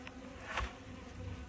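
Honeybees buzzing around a newly installed hive, a soft continuous hum of many insects with one bee passing close and briefly louder.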